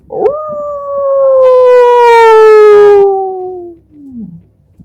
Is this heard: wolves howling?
yes